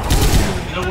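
Left 4 Dead 2 gunfire comes as a brief, loud, close burst of rapid shots that overlap into a dense crackle lasting under a second.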